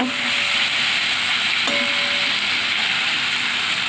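Onions frying in a pan as the base for a chicken curry, a steady loud sizzle and hiss that holds evenly throughout with no talking.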